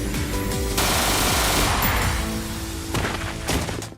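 Rapid machine gun fire in an anime scene, loud sustained bursts of rattling shots with heavy impacts, cutting off briefly before another short burst near the end.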